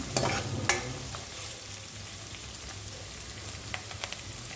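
Eggs sizzle in hot oil for egg fried rice, a steady close crackling hiss with a few sharp spatters and clinks near the start and toward the end, no voices.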